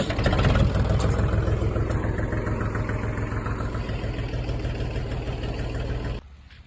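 A Mahindra 275 DI tractor engine runs at a steady idle with a deep, even throbbing rumble, loud and close, cutting off abruptly near the end.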